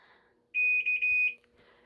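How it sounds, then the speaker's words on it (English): A washing machine signals an error with a run of loud, high electronic beeps, some short and some longer, close by in a quiet room. "Look, Melissa, stop flashing your knob at me and quit beeping."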